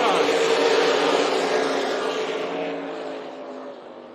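Race cars take the green flag at Tucson Speedway in a loud, dense roar of engines that swells at first and then slowly fades as the pack pulls away.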